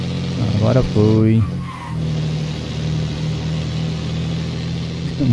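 A truck engine labours uphill on the Ubatuba mountain road, a steady low-pitched drone of straining revs heard from inside the cab, with people talking over the opening seconds.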